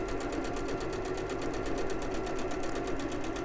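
Domestic sewing machine running steadily while reverse stitching the front of a fabric bunny softie toy, a close, continuous rapid mechanical whirr and needle chatter throughout with no pauses.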